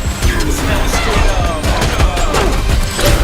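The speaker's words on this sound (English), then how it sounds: "In flashes of gunshots, the women attack and disarm the men." A rapid burst of sharp gunshots cracks loudly and continuously in a dark room, overlapping with crashes and thuds in a chaotic, close-up firefight from the film The 355.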